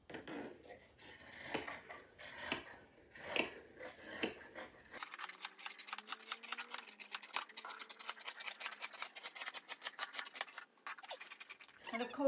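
Scissors cut through Vilene fabric close up with crisp, repeated snipping and scratchy slicing, first in a few separate cuts and then in quicker continuous strokes.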